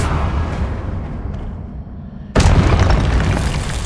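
A Confringo blasting spell in Hogwarts Legacy detonates with a sudden loud boom after a low rumbling lull, then leaves a sustained roaring burst of debris and fire.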